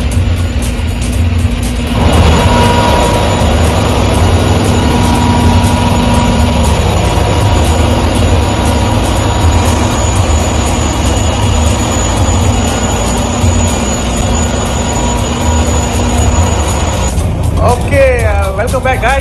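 Heavy machinery fills an oil rig engine room with a loud, constant roar and steady tonal hum that persists without a break, shifting slightly in character near the end.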